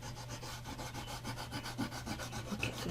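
Pastel is rubbed and smoothed on paper in a steady rhythmic back-and-forth scrubbing, soft and close, with no voices.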